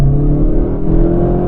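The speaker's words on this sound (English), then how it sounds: "Now, all that torque can still spin the wheels" A supercharged Mazda6 revs hard and loud up close, its engine droning in a steady strained tone while the wheels spin.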